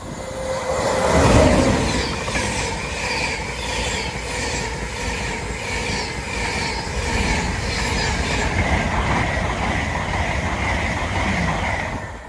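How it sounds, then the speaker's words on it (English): An Intercity 225 express bound for Leeds races past a close trackside footpath on the East Coast Main Line at Tuxford, a loud sustained roar with rhythmic wheel clatter and faint squeal throughout, no voices. "Intercity 225 to Leeds."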